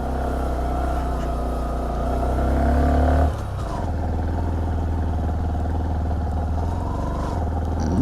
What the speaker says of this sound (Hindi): मैं पहले गियर में चढ़ा रहा हूँ।